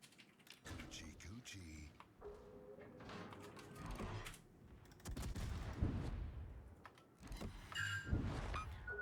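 Main guns of the Yorck, a Tier VII German cruiser in World of Warships, booming in repeated salvos with sharp blasts and rumbling tails, mixed with other battle noise and someone talking.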